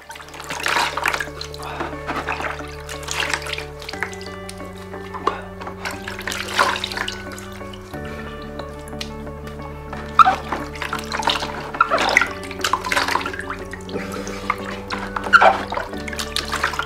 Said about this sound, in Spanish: primero lava la cara con este agua, luego lava una vez más con el agua normal